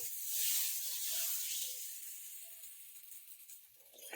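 Tomato garlic thokku with turmeric powder sautéing in a pan, giving a steady, fairly loud sizzling hiss that eases slightly toward the end, with no voices.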